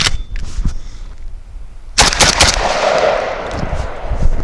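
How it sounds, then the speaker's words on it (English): SDS Imports Lynx 12 3G 12-gauge shotgun firing SMB nine-pellet double-aught buckshot: one sharp blast early, then a rapid string of close, loud shots in quick succession with ringing afterward. "Now we'll soften things up with some SMB 9-piece double-aught buck"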